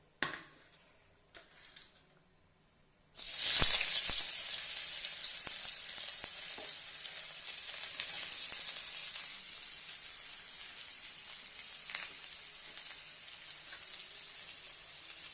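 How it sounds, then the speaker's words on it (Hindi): Onions hit hot oil in a home kitchen pan with a sudden loud sizzle that settles into a steady crackling fry, with scattered pops and faint stirring, no talk. "तेल भी गरम हो गया है। ठीक है, अब हम इसमें प्याज डालेंगे।"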